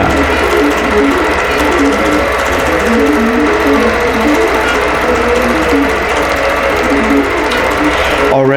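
A long-arm quilting machine stitches a pumpkin patch batik appliqué quilt panel, its needle drive running loud, steady and close as a continuous rapid mechanical rattle with a rhythmic hum throughout.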